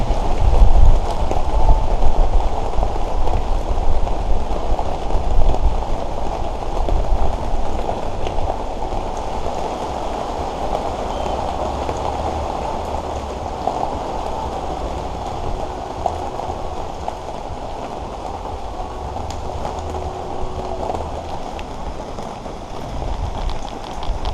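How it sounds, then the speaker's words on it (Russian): Steady, heavy rain pattering on a surface, a constant dense hiss that continues without a break and without voices. "Зарядил дождь вообще. Уже час идет, не прекращается."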